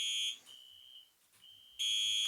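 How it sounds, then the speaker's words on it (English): A building fire alarm sounds with a shrill, steady electronic tone. It blares loudly at the start, drops to a thinner sustained beep through the middle, then returns at full strength near the end, with no talking. "I got a fire alarm in my building."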